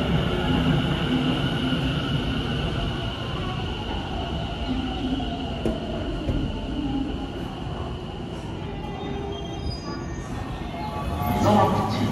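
A Tobu 50050 series train pulls into a station with a steady rumble of wheels and motors and faint wheel squeal toward the end, while a platform announcement plays underneath throughout.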